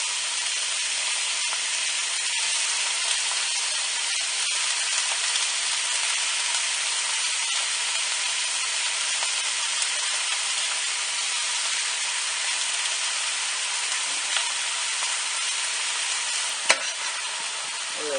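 Steak with beef broth and onion soup mix sizzling in a hot pan, with a steady, loud frying hiss and occasional faint stirring clicks, without any talking.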